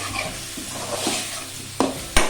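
Mutton liver frying in oil is stirred with salt, a low steady sizzle under soft scraping, followed by two sharp clinks of a spoon against the pan near the end.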